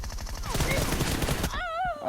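Rapid pistol gunshots ring out in a PUBG-style video game, a quick burst of close, loud reports lasting about a second and a half before a sliding tonal sound and a voice take over.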